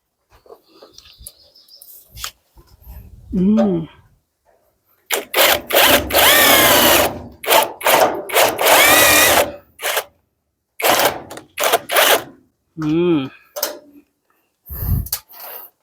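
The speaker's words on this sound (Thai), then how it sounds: "มาเจาะน้ำให้เป็นรูก่อน" A power drill boring a hole during rooftop installation work, several separate bursts of high whining drilling of varying length, separated by short pauses with faint background sounds.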